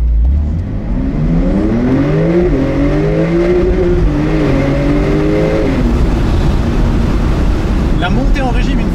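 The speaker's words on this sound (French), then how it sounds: "Ici, je vais vous faire un départ sans launch control en première." A Porsche 992 Turbo S pulls away from a standstill in first gear without launch control, its engine note climbing sharply in loud rising sweeps before easing off, followed by a brief fluttering whoosh.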